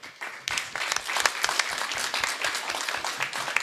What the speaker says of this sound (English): Can we all give them a great round of applause?